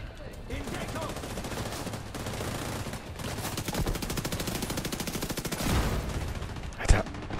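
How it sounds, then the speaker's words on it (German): Dense, rapid gunfire from The Division 2 at Jefferson Plaza, with sustained bursts of automatic shots and a sharp explosive blast near the end, loud and continuous with no talk. "womit schießt der denn hier rum? Granatwerfer oder was ist das?"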